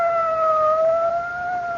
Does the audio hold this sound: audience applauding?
no